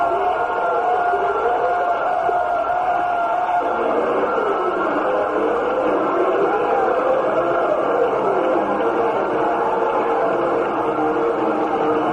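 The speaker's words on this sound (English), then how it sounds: "the crowd still applauding" A baseball stadium crowd roars after a home run at a Mariners versus White Sox game, carried on a classic radio broadcast. The crowd noise is a sustained, distant wash of cheering and applause with a wavering tonal undertone that lasts throughout.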